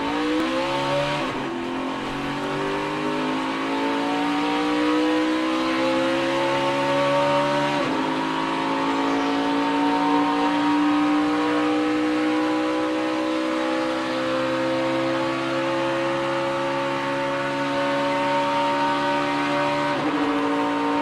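A stock race car engine roars and climbs in pitch as it accelerates in third gear during qualifying for the 2016 GEICO 500, heard at a steady moderate distance, with a couple of quick drops between rising sweeps.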